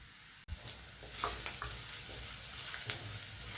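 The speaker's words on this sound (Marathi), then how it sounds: "तर मी एक कांदा घेतलेला आहे आणि ह्याला छान आपण परतवून घेऊया" Onion sautés in a hot pan for a spicy masala, giving a steady close sizzle with a few stirring scrapes.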